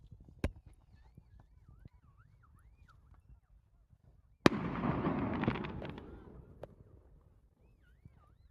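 Fireworks on Bonfire Night in the open air near Tavistock: a sharp distant crack, then a loud boom that spreads into crackling and fades over a few seconds, with faint whistles and a quiet background.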